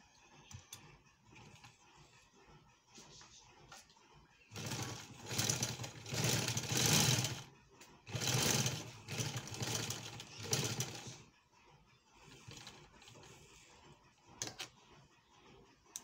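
Sewing machine stitching a seam through two layers of fabric, a whirring run that starts after a quieter stretch, pauses briefly and resumes, close and moderately loud with soft handling noises around it.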